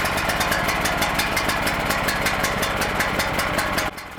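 An iPower SUA12000E portable generator runs steadily after a push-button electric start, its engine droning loudly and evenly at close range until the pitch drops slightly just before the end.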